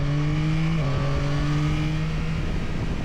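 A Yamaha Tracer 9 GT motorcycle engine pulls strongly with a steady tone that dips briefly at a gear change before holding, heard up close and loud.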